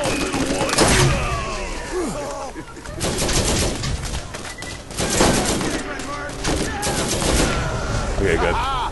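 A turret fires in the video game Borderlands, rapid repeated gunshot bursts with sharp impacts in several loud clusters, game effects layered over the shooting.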